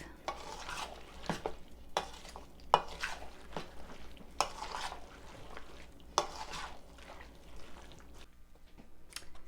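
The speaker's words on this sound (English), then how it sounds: "Now you're going to mix all this together until it's well coated." Granola mixture of orange, apple and cranberry being stirred in a bowl until well coated, with repeated scraping and clinking strokes in an uneven rhythm, close and moderately loud with no talk.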